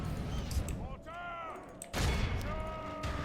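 Artillery bombardment in a video game sounds as a dense barrage of booming blasts and crackling impacts, loud and continuous with a brief lull in the middle, while a voice speaks over the battle.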